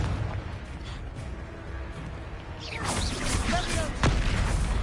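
Confringo blasting spell explosions in Hogwarts Legacy, a burst of bright, crackling blasts building in the second half and swelling to a loud peak near the end, over low game rumble.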